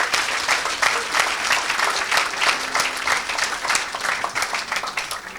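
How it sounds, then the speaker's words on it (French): Sustained applause from a church congregation cheering for Jesus, a dense, steady wash of many hands clapping, loud and close throughout with faint voices mixed in. "Acclamez pour Jésus."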